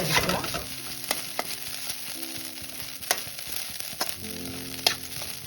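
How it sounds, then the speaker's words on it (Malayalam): Chicken fries in a pan with a constant sizzle while a spoon stirs it, giving irregular scraping knocks against the metal, close and with no talking. "നന്നായി ഇളക്കി കൊടുത്ത് ഒന്നൊരു ചെറിയ ബ്രൗൺ കളറിലേക്ക് വീണ്ടും വരുന്നത് പോലെ തന്നെ ഒന്ന് വറുത്തെടുക്കുക"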